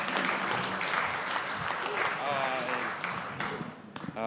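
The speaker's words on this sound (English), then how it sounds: "Give yourselves a round of applause" Conference audience applauding at the Te Au o Te Moana gathering, dense clapping from a crowd that continues while voices call and speak over it, tapering toward the end.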